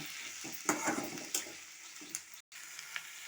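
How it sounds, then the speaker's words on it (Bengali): A spice paste of ginger, garlic and green chilli sizzles in a pan. Quiet frying hisses under intermittent clinks and scrapes of a stirring spoon, with one short gap of silence. "মশলাটা ভালো করে আমি কষিয়ে নেব"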